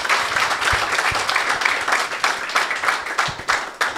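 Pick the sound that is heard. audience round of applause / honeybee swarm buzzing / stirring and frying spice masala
audience round of applause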